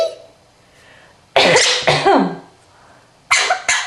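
A Quaker parrot imitates a cough, giving a few harsh, throaty hacks close by, then a pause and two more short coughs.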